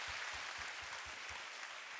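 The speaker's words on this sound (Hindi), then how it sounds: "इसलिए हम जोरदार तालियां कुमार शुक्ल जी के लिए भी बजाएं" Audience applause at a political speech event in India, a steady, moderately loud spread of clapping from a gathered crowd, with a few low rhythmic thumps running beneath it, sounding alone without voices.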